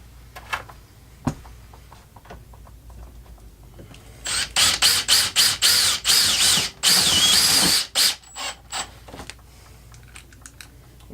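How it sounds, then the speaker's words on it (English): A power drill drives screws into an aluminum self-closing pool fence gate: quiet handling clicks, then several short bursts of whirring drill runs in quick succession, followed by lighter tapping and clatter. "you have your drill set so that it doesn't overturn and strip out the aluminum"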